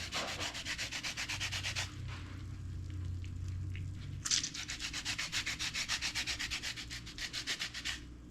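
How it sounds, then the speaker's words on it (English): A lemon being zested on a grater in rapid rhythmic strokes, producing close, scratchy rasps in two bursts separated by a brief pause, with no talking. "Lemon zest."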